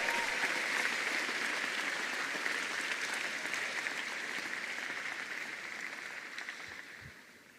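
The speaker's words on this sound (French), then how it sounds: "Come on, give the Lord a big hand." Congregation at a church service applauding warmly, a dense sustained wash of clapping that slowly fades out over several seconds.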